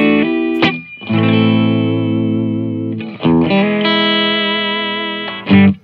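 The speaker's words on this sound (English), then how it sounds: "a nice soaking of reverb, you know, spring verb now or whatever, it's just a beautiful sound" An electric guitar with a roller bridge rings out in long sustained chords through spring reverb, a wash of reverb trailing behind each one, with a few quick strums between them.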